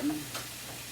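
Brief soft sizzle of onions and mushrooms cooking in butter, a low steady frying hiss with a faint stir, close and quiet.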